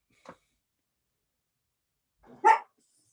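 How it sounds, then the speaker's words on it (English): Dogs barking indoors during an online video call, one short distant yip followed after a pause by a louder, closer burst of barking, with no talk over it. "Sorry, my dogs were barking."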